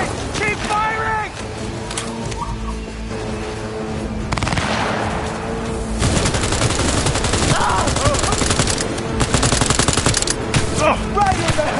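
Machine gun fire in Cyberpunk 2077 rattles in long, dense automatic bursts, loud and close, with a voice talking over parts of the shooting.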